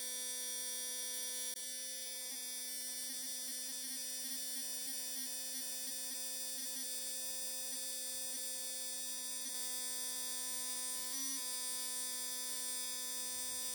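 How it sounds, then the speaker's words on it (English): A Reanimator fuel injector cleaner runs with a steady electric buzz, and rapid clicking pulses repeat through the middle as the injector is cycled during flushing. "Turn on the Reanimator and observe the color of the flushing fluid."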